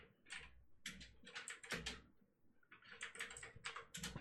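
Fast, uneven bursts of computer keyboard typing during a podcast recording, close and clattery, with a short lull midway before the keystrokes pick up again.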